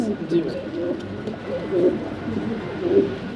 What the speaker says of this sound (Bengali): আমরা সিঙ্গেল এক পিস রেসার কবুতর দেখতে পারতাছি